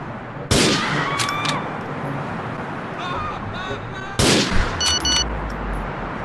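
Two loud, sharp gunshot blasts ring out a few seconds apart in GTA 4, amid continuous game background noise and faint electronic tones.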